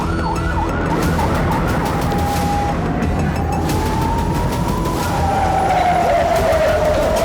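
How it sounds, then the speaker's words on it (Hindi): A red alert air raid siren over Tel Aviv wails steadily and rises slowly in pitch, loud and continuous over a dense roar of city and crowd noise. "रेड अलर्ट सायरन से गूंजता आसमान"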